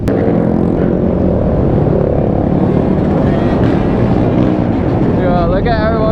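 A large pack of dirt bikes and mini bikes streams past on a group ride, a loud, continuous engine roar holding steady without a break.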